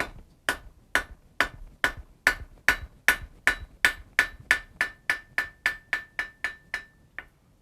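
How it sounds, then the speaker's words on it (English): A blacksmith's hammer strikes hot steel on an anvil while drawing the toe of a scarf: about seventeen sharp, ringing blows in a steady, slightly quickening rhythm, loud and close, with a metallic ring lingering between hits. "Maintaining the hammer angle, I'm going to turn this 90 degrees, drop it down so it's level with the anvil face"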